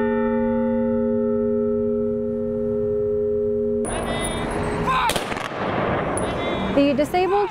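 Disabled American veterans fire a gun salute on the Yellowstone County Courthouse lawn for Armistice Day; a lingering bell tone fades into sharp outdoor cracks and bursts mixed with crowd noise, fairly loud and close.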